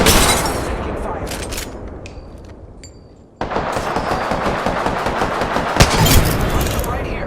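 Sustained automatic gunfire in the battle royale shooter Apex Legends, with rapid bursts and sharp cracks, a brief lull, then renewed loud overlapping shots and a heavier boom.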